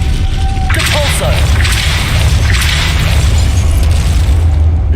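A Depulso spell is cast in the video game Hogwarts Legacy, heard as a sharp whooshing blast with a short whistling tone and popping bursts over a constant low rumble of game background sound.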